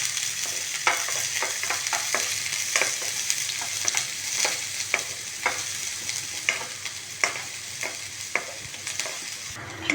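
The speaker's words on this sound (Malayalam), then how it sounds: "ഈ ഉള്ളി ഒന്ന് സോട്ടായി വന്നു." Chopped onion sautéing in a pan for a Kerala thoran, with a steady close sizzle and frequent sharp scrapes and clinks of a spoon stirring throughout, no talking.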